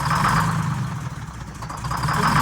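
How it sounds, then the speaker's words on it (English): A bus engine idles unevenly with one half of the engine producing less power, a steady close rumble whose loudness wavers and dips slightly. "So you have one half of your engine is not producing as much."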